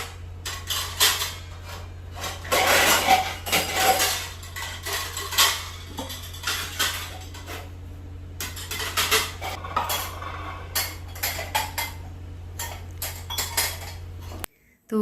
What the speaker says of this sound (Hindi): उससे पहले ये बर्तन भी रखने हैं मुझे।